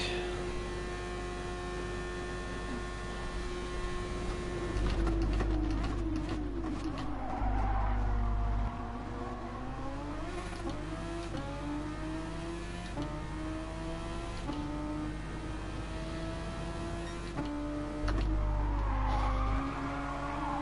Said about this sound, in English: I've made one overtake. I've overtaken Gad.